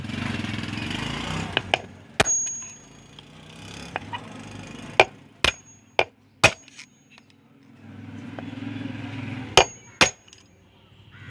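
Gentle screwdriver taps on a ceiling fan bearing ring out as about a dozen sharp, separate metallic clicks at irregular intervals, close and fairly loud, over a low background hum.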